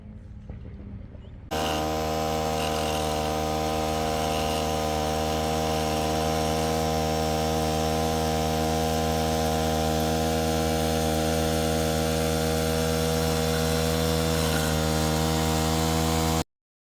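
A Wild Badger 4-stroke lawn edger runs steadily while cutting along a tapered curb edge, a loud constant engine drone with strong harmonic hum starting abruptly after a short quiet moment.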